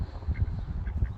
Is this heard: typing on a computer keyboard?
no